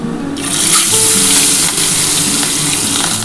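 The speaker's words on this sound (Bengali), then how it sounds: "দেখো আমার তেলটা গরম হয়ে গেছে, আমি মাছগুলো একটা একটা করে দিয়ে দিচ্ছি।" Hilsa fish pieces dropped into hot oil sizzle and fry steadily, a loud continuous crackling hiss that starts abruptly and holds throughout.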